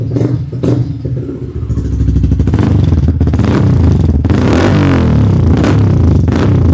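A Yamaha R15 motorcycle fitted with an Akrapovic exhaust runs loud and close. The throttle is blipped so the engine note rises and falls in repeated revs over a constant roar.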